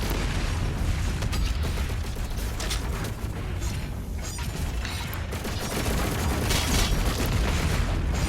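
Rocket launcher explosions in Doom Eternal crash out as heavy booms within a dense, loud wash of combat noise, mechanical clanks and music, with a few blasts standing out near the end.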